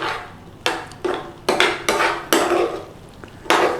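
A spoon scrapes and knocks against a pan while Madras curry paste is stirred through base gravy and vegetables, with about eight sharp strokes in a loose rhythm over a few seconds and no talking.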